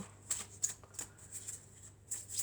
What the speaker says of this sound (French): Alors on va prendre quelques cartes de mon oracle.